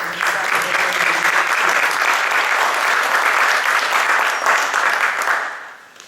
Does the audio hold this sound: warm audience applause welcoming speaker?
yes